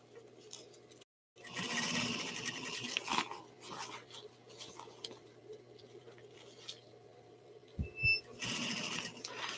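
A sewing machine sewing a rolled or double hem along the top edge of fabric, an uneven run of mechanical whirring in short bursts with a brief pause and some handling clicks.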